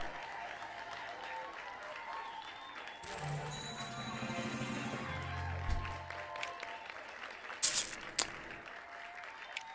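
A recorded round of applause plays in the space-agency strategy game Mars Horizon, a burst of crowd clapping and cheering that swells, fades and ends in a few louder final claps.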